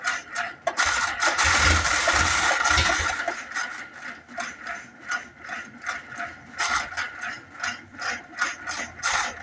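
A 1948 Willys pickup engine cranks on its starter, a steady ratcheting churn that runs loud and close for about ten seconds, briefly sounding as if it nearly catches early on before settling back into rhythmic turning over.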